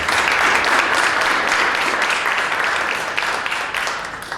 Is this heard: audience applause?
yes